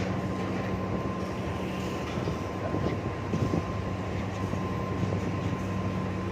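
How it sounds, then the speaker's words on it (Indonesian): Low steady rumble of a railway locomotive idling and moving near Pertamina tank wagons during coupling, a continuous close engine drone with faint clanks and no talk. "bagaimana cara penyambungan lokomotif dari lokomotif kereta api ke gerbong Pertamina ini."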